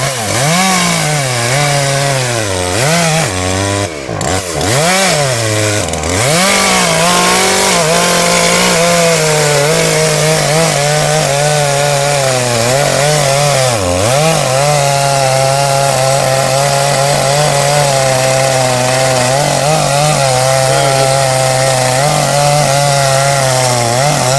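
A chainsaw felling a tree runs loud and close for the whole stretch, its engine pitch dipping and bogging repeatedly as it bites into wood, then steadying at a high whine.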